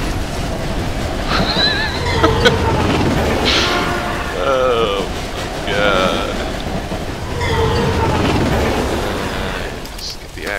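A train rushes past in a video game, its rumbling, rolling noise running steadily through the scene beneath excited players' voices.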